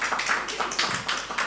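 Scattered applause from a church audience at a parenting masterclass, brief rhythmic claps in a steady patter at moderate distance, with no voices over it.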